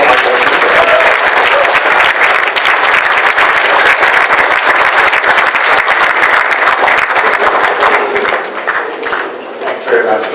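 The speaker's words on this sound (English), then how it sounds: "can you give us a round of applause to welcome our guest speaker?" A large audience applauds loudly to welcome a guest speaker, a sustained wash of dense clapping that stays strong for about ten seconds before thinning slightly at the end.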